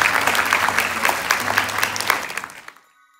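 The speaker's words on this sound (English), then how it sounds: "Please give another round of applause to all our performers and non-performers today." An audience applauds performers at a school event, a full, even burst of clapping that carries on strongly before thinning and fading to silence near the end.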